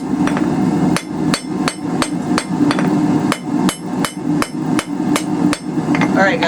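Hot steel being hammered into a taper on an anvil while forging a coal fire rake: a steady run of sharp, ringing metallic strikes about every third of a second, loud and close, with no talk.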